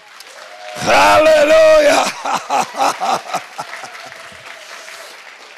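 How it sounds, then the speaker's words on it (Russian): Powerful applause from a church congregation, bursting in loudly after a shouted exclamation and then breaking into rhythmic, uneven bursts of clapping with a few voices mixed in. "Такие аплодисменты мощные."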